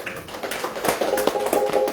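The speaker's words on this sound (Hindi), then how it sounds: "एक जोरदार ताली उनके लिए।" Applause from an audience at a Ramayan satsang, a brief burst of scattered hand claps that builds into steady clapping, moderately loud and without talk.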